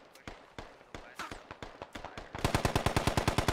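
Rapid gunfire in the video game Squad: spaced single shots early on, then a fast, louder burst of evenly timed cracks near the end, heard at a moderate distance.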